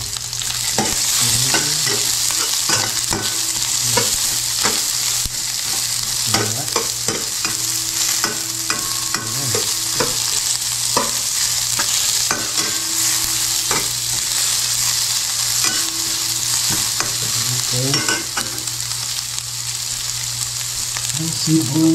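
Onions sizzle steadily as they fry in a pan, with repeated scraping and stirring strokes on top of a constant hiss, and a voice speaks only occasionally and faintly.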